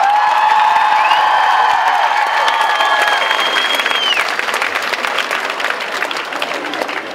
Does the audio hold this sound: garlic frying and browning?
no